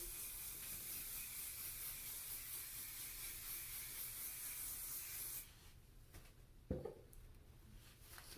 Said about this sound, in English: I'll get my oil spray and spray